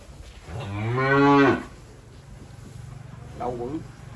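Breeding cattle on a farm low out with one long, loud moo and then a shorter, fainter one a few seconds later.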